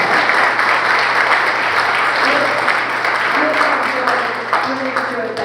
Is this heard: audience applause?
yes